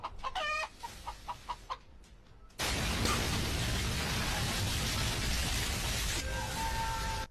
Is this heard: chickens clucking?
yes